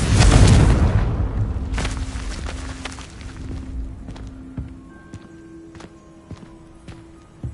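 A Confringo spell detonates in Hogwarts Legacy with a heavy, close boom and a rolling rumble. A second crack follows, then the sound tails off into lighter scattered clatter and ambient tones.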